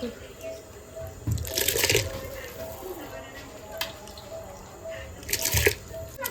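Soaked rice is rinsed with water in a pot in a home kitchen while chicken biryani is being made, giving close, intermittent drips and trickles with two louder splashing bursts over a quiet background.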